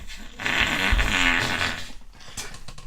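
A person's fart, a drawn-out buzzy, creaky rasp lasting a couple of seconds at close range, with no talking over it.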